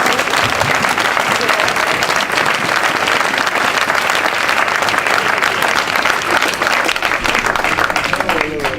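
Congregation at a church service applauding and cheering, steady dense clapping from many hands throughout, with voices mixed into the crowd.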